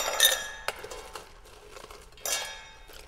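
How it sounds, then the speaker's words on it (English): Ice cubes drop into a glass or cocktail shaker tin, making a few sharp clinks and rattles in separate bursts with quiet gaps between them and no talking. "So I'll put a little ice in my glass or my shaker tin here."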